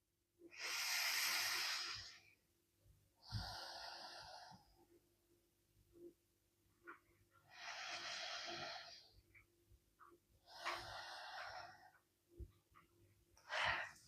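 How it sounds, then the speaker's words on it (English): Slow, deep breaths during a yoga session: long airy inhales and exhales, close and clear, separated by quiet pauses, with a few soft bumps between them. "2 breaths here."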